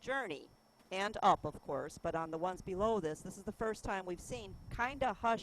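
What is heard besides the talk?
No distinct noise like a dog, phone or traffic.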